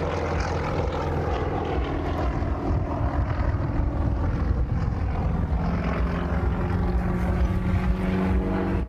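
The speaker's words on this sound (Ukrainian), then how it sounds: "Літаки малюють в небі серця, спіралі, вісімки." Propeller-driven aerobatic airplanes fly freestyle manoeuvres at an air show, their engines droning loudly and continuously with a steady roar throughout, no talking.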